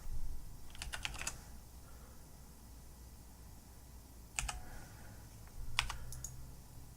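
A password is typed on a computer keyboard in quick bursts of crisp key clicks, a short flurry, a pause, then a couple more taps, close and quiet in an otherwise still room.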